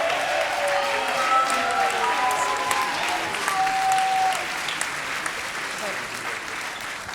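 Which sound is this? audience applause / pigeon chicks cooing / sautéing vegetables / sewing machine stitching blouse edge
audience applause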